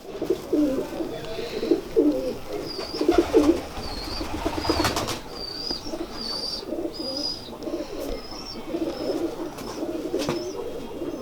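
Sialkoti pigeons on a rooftop cooing in repeated low, rolling bursts, with higher chirps over them and occasional handling noise.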